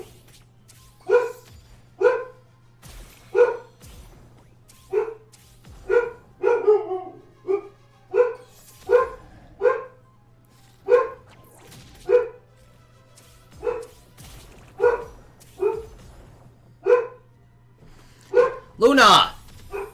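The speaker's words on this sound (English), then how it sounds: "Probably just barking at somebody walking their damn dog." Pet dog barking at home at someone walking another dog past outside: sharp, close barks repeat in a long, fairly regular series about every second, some in quick pairs, over a low steady hum.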